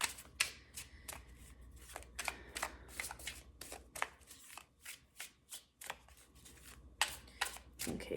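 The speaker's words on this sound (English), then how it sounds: "I'm feeling called to draw a couple more tarot cards" Tarot cards are shuffled by hand in a quiet room, giving a long run of soft, quick riffling flicks and taps at close range, with no talking.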